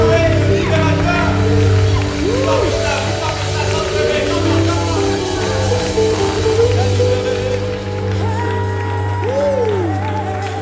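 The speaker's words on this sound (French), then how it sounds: "Des cris de joie, des cris d'acclamation." A church congregation gives loud cries of joy and acclamation, a dense crowd roar of shouts and scattered applause that runs the whole time, with music and voices mixed underneath.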